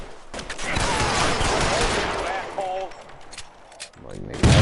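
Rapid gunfire from the video game L.A. Noire, a dense fusillade of shots layered with shouting voices and tonal game sounds, easing off before a final loud burst.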